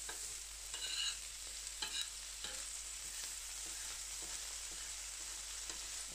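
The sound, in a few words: sausage frying on carbon steel griddle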